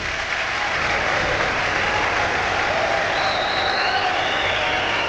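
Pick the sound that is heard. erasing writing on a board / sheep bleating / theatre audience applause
theatre audience applause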